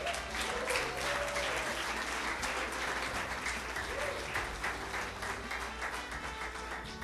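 A church congregation claps for the Lord during a sermon, a dense, even wash of many hands sustained throughout, heard at a fairly low level.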